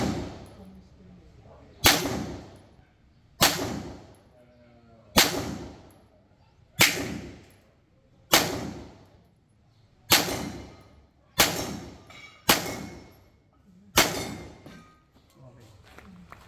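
A TS2 gun fires shot after shot at steel targets, nine or ten sharp cracks spaced about one and a half to two seconds apart. Each one rings out and decays. A voice is faintly present between them.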